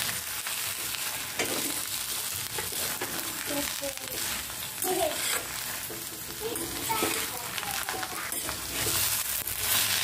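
Spiced vegetable filling for dosa, with cumin powder, coriander leaves and salt, fries and is stirred in a pan, giving a continuous close sizzle broken by repeated scraping and mixing sounds.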